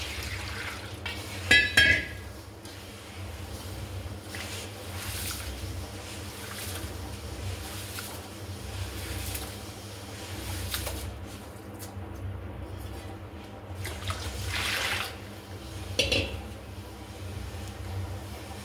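Finger millet being washed with water in a vessel, with soft sloshing and swirling of grain and liquid, a few sharper clinks and splashes from handling the pot, close and fairly quiet.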